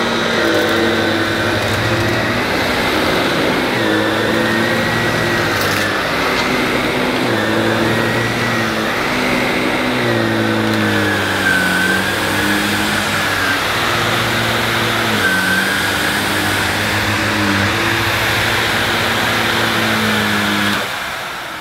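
A Miele Swing H1 vacuum cleaner running on carpet at its highest setting, a loud close steady motor drone whose pitch dips and rises as it is pushed back and forth.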